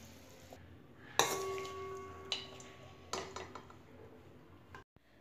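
Cooked greens (beto shak with eggplant and bori) are poured into a bowl, heard as a few faint, separate clinks and clatters of utensil against dish over quiet room background.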